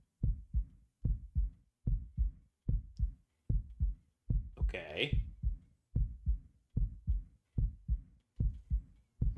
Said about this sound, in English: I think they just wanted you to hear that heartbeat thing going.